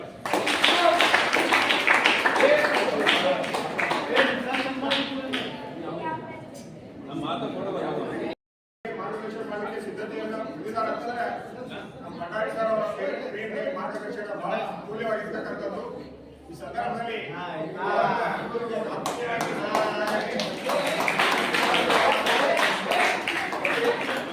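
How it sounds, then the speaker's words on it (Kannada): An audience at a school students' award ceremony claps in sustained applause, loud and dense at the start and again at the end, with a quieter stretch in the middle and a brief silent gap. "ಇನ್ನೊಂದು ದೊಡ್ಡ ಚಪ್ಪಾಳೆ"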